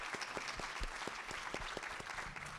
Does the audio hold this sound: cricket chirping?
no